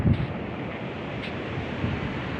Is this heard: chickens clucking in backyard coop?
no